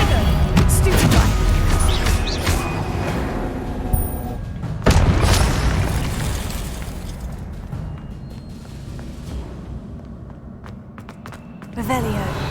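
A Confringo blasting spell goes off in the Hogwarts Legacy video game, a loud booming burst near the start with another sharp blast around the middle, over continuous game noise and a voice.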